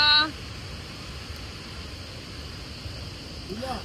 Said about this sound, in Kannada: ನದಿ ದುಮ್ಮಿಕ್ಕಿ ಬೋರ್ಗರಿತಾ ಇದೆ. ಸೊ ಹಂಗೆ ಅಷ್ಟು ಸೌಂಡ್